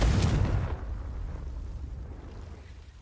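Confringo blasting spell detonating in Hogwarts Legacy on PS4: a loud, deep boom at the start that rolls off into a long rumbling decay, with no voices.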